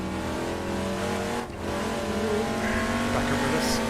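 A Jaguar E-Type race car's engine drones loudly and close in Assetto Corsa, holding a steady, rich tone with a brief dip midway before revving on, with someone speaking over it.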